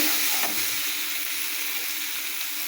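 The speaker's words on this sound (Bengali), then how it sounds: "এখন ডিমগুলো দিয়ে এই মশলার সাথে একটু কষিয়ে নিচ্ছি" Eggs frying with spices in a pan for a bottle gourd and egg curry, a steady close sizzle and hiss throughout with no talk.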